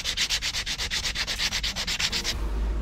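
Rapid, rhythmic back-and-forth scrubbing of contacts on an electronic circuit board for a camper van's electrical system, about fifteen quick close strokes that then stop abruptly, with no voices.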